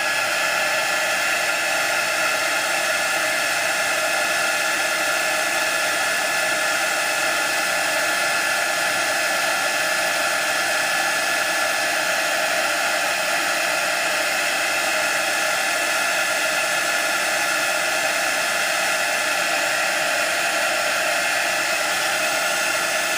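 A heat tool blows hot air over craft fall leaves in one continuous, loud, steady whooshing roar that holds unchanged throughout, with no voices.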